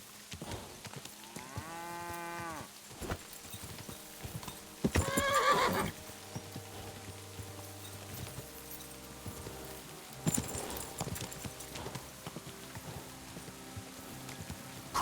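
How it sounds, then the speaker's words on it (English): Horse in the game Kingdom Come Deliverance 2, neighing loudly and repeatedly over a steady clip-clop of hooves, with snorts and whinnies recurring amid rumbling game sound. "Easy. Good horse."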